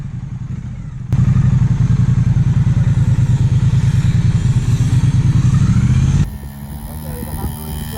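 A Honda Vision scooter and a Honda motorcycle ride in sand, with a loud, close engine drone and rapid clattering pulses that run for about five seconds. Quieter background noise comes before and after.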